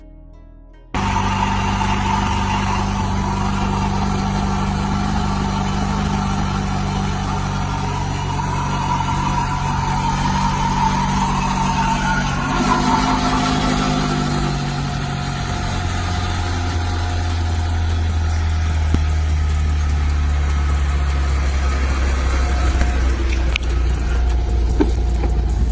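A 2.7-litre Chevy Colorado engine fitted with a cold air intake idles steadily and close by, a continuous low rumble with a faint mechanical whine and a slight shift in pitch partway through, with no talk.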